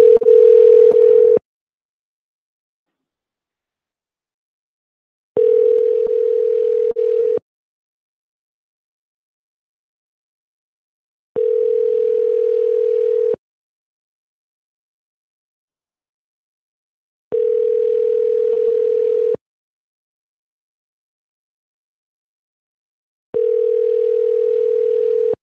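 Five steady telephone tones, each lasting about two seconds and repeating roughly every six seconds with silence between, heard alone and clearly while a call is being placed.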